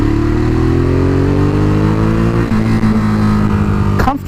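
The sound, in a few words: Ducati Monster 821 motorcycle riding through a bend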